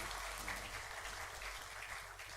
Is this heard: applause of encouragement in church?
yes